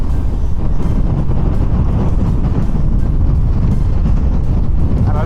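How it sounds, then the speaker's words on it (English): Strong wind buffets the microphone at the Quiraing in Scotland, a loud, constant roaring rumble with gusty thumps and no other clear sounds. "I'm not sure anything of this is coming out because the wind is so strong"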